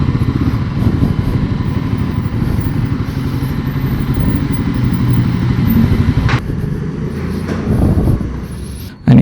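A Royal Enfield Guerrilla 450 motorcycle rumbles steadily at close range with a low, throbbing single-cylinder idle as it is ridden slowly into a showroom. A little wind noise is mixed in, and a sharp clatter comes at the end.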